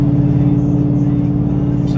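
A 2015 Mustang GT fitted with a Stainless Works exhaust drones steadily from inside the cabin, a loud, even low hum with no distinct revs across the short stretch.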